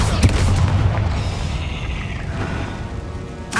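Descendo slam spell in Hogwarts Legacy striking the ground with a loud, deep booming impact, then a rumbling decay that fades over a few seconds before a sharp crack at the end.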